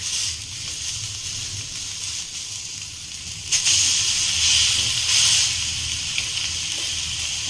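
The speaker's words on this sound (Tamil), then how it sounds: "ஆயிலோட தவால ஃப்ரை பண்ணிட்டு நல்லா இருக்குங்க." Mint-marinated fish frying in oil on an iron tawa, a steady close hiss and sizzle that swells louder partway through and then holds, with no talking.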